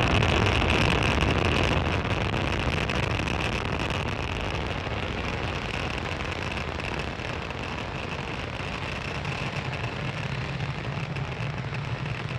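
A SpaceX Falcon 9 rocket climbing after liftoff from Space Launch Complex 40 at Cape Canaveral gives a continuous broad roar, heavy and rumbling, loudest at the start and easing slightly as it steadies, with no voices.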